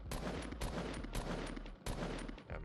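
Rapid gunfire in Fortnite Creative mode, aimed at practice targets: a loud, close run of bursts and sharp cracks with brief gaps between the volleys.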